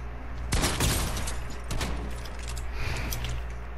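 Gunfire in the video game Fortnite: a burst of rapid shots near the start, then scattered further shots over a steady game background.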